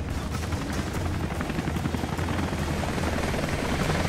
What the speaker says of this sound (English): Fucking chopper.